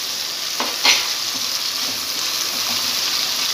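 Chopped green chillies gently fry over medium heat in a pan that already holds chopped tomatoes for jeera aloo. A steady, soft sizzle runs throughout, broken by a couple of brief stirring clicks near the start.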